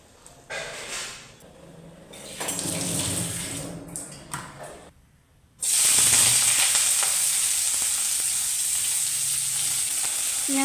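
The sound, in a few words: onions frying in a pan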